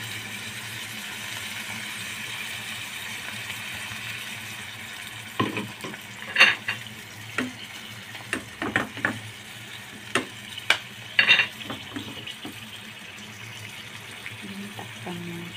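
Vegetarian fried rice frying in a pan as sauce and water are added, a steady sizzle beneath a run of sharp utensil clinks and scrapes in the middle and later part.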